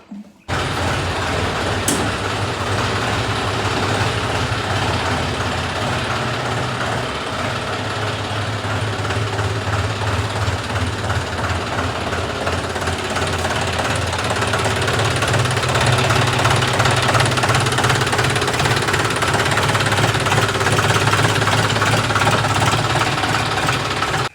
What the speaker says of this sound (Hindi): भाई ट्रैक्टर मैंने बाहर निकाल दिया है और पूरा काम निशांत करे ऊपर छोड़ दिया।